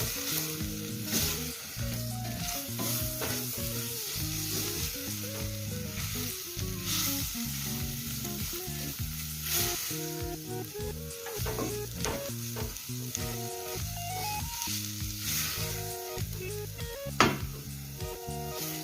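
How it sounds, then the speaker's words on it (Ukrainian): Steady sizzling of wheat flour frying in a pan, with repeated scraping and stirring strokes throughout and a brief clatter near the end. "трохи піджарюємо"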